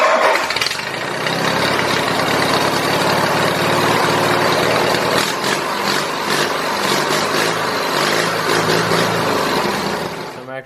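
A Briggs & Stratton twin-cylinder engine on an off-road mower, fitted with a custom exhaust and end tip, runs loud and steady with a deep, throaty rumble the whole way through, close up and with no talking.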